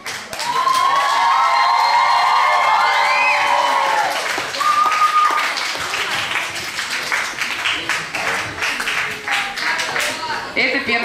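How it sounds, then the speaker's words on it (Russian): Applause and cheering from a camp audience at a children's Mister and Miss pageant at the Orbita camp, with whistle-like tones and shouts over steady clapping, then the crowd noise thins into scattered claps and voices. "Встречаем бурными аплодисментами"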